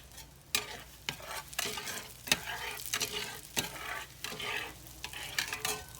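A whole big white onion, cut up, fries in a pan, giving a continuous sizzle broken by repeated loud scraping strokes of stirring, close up with no talking.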